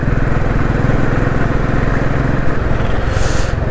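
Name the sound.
motorcycle engine sputtering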